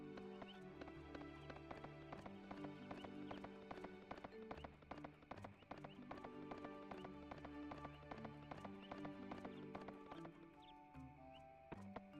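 Rhythmic horse hooves clip-clop steadily in Suikoden III while the character Chris rides, backed by game music with tonal layers and occasional whinny-like tones, all at moderate level without speech.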